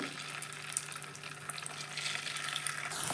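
Chicken pieces frying in hot oil in a kadai for chilli chicken, a steady bright crackle and hiss with scattered pops, swelling slightly as more pieces go in; close, continuous, no talking.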